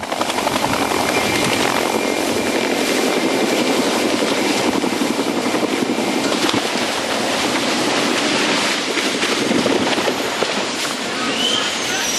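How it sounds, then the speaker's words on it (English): A helicopter at an air show over water lifts off and climbs, its rotor and engine noise forming a loud, steady broadband roar that holds for the whole stretch. "helicopter lifted off smoothly, but things went sideways when the pilot tried to climb higher"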